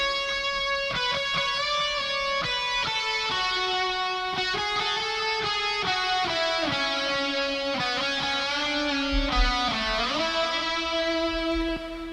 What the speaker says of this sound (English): I did a short little guitar solo here with my Reverend Rocco, and I'm just running through the Kemper.